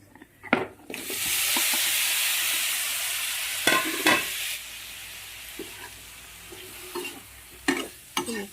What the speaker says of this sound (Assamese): অকণমান মিলাই লৈছোঁ বিলাহীখিনি মছলাখিনিৰ লগত।